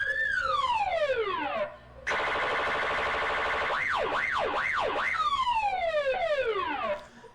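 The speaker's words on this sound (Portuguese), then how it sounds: "Pera aí, vai tocar de novo, sirene." An electronic siren sound effect cycles through patterns: falling whoops, a harsh buzzing tone, then rapid up-down yelps, loud and alone with brief gaps between sections.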